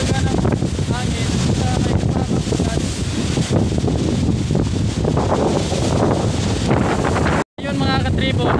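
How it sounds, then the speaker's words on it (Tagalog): Strong wind roars and buffets the microphone continuously, a loud gusty rush that cuts out briefly near the end before resuming. "Sobrang lakas talaga ng hangin."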